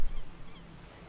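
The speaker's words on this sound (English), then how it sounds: "Hearing the birds in the back." Faint goose-like honks from birds sit in the background of the Tower!3D Pro air traffic control simulator at Tokyo Haneda airport, mixed into low ambient rumble after a brief louder thump.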